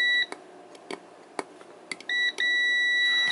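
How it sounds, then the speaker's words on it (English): Continuity beeps from a multimeter probing a Vivitar Rapid battery charger during a teardown: steady high tones that start and stop, ending in a long sustained beep, with faint clicks of probes touching contacts. "let me just put it on continuity check"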